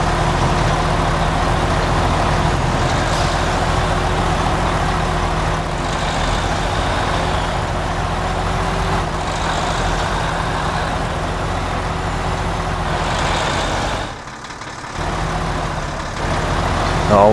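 Old American truck engines idle in the SnowRunner game, a steady low rumble that runs nearly the whole time. A short drop near the end breaks it up, and a voice talks over it now and then.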